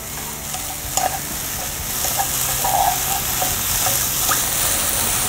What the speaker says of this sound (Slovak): Tak si opekáme.